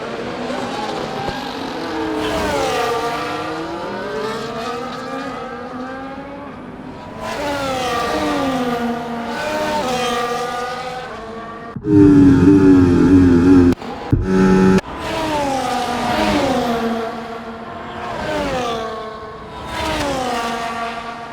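F1 race car engines in the F1 24 video game at the Saudi Arabia Grand Prix, including Oscar Piastri's McLaren, scream through repeated rising and falling gear shifts. A loud, close burst partway through is followed by more high-pitched revving.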